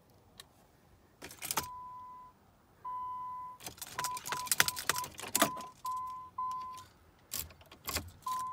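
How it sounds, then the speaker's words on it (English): Chevy windshield wipers straining against a dead battery, heard as faint clicks and relay-like ticks mixed with short steady chime tones and brief sputtering bursts, no talking over them. "Oh, the wipers are trying to move."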